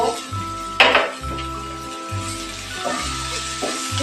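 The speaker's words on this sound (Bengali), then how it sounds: "পেঁয়াজটাও কিছু সময় ফ্রাই করে নেব। এখন টমেটো ক্যাপসিকাম অ্যাড করব।" Onion, tomato and capsicum fry in a pan on a gas stove while a spatula scrapes and clinks against the metal in a steady rhythmic stirring pattern over a soft sizzle.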